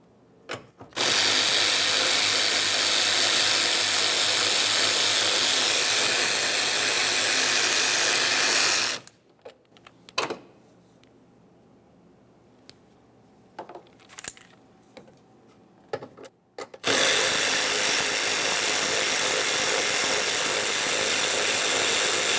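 A ratchet or power tool backs out two 8mm bolts from the air intake box of a 2011-2019 Ford Explorer, in two long, loud, continuous bursts separated by quieter handling clicks.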